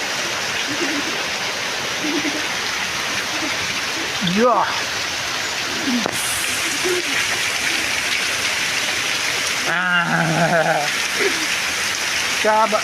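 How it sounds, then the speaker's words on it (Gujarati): Heavy downpour in Thadgam village, Kavant, a dense steady roar of rain lasting throughout, with a few short spoken words breaking in; no distinct thunder crack stands out. "કડાકા અને કડાકાની સાથે વરસાદ અત્યારે હાલ ચાલુ છે"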